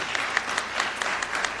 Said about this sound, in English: Please give Governor Murphy's administration a clap for